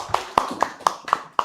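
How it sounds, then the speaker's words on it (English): A few people clap slowly and sparsely at a library short course, about six distinct claps at an even pace in a quiet room. "applause for everybody"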